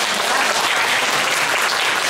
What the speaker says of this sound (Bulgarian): Заповядайте, Теменуга Маринова, деца, може да ръкопляскате.